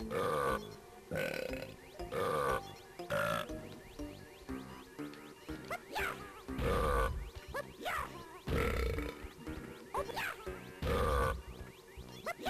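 Repeated burps of varying pitch and length, some almost musical, in the Symphony of Burps minigame of Donkey Kong 64, arriving in rhythmic bursts over a game backing track.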